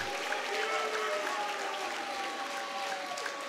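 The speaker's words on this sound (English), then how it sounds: "let's give them another big, huge round of applause" An audience claps for high school boys' cross-country state champions in a school gym celebration, a moderate, steady round of applause heard somewhat distant, with a faint sustained tone running beneath it.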